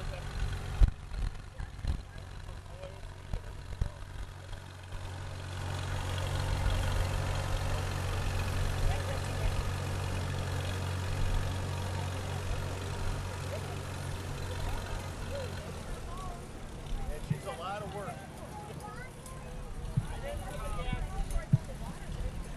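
A rare Oliver 66 single-wheel tractor with an Oliver cultivator idles and runs at an antique tractor show, a low steady engine drone under nearby talk from onlookers.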